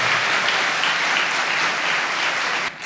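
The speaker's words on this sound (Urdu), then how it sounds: "ان سب کے لیے زوردار تالیاں ہو جانی چاہیے" A congregation at St. John's Catholic Church claps during a Sunday Easter service, a dense, loud, even roar of many hands sustained throughout before cutting off abruptly at the end.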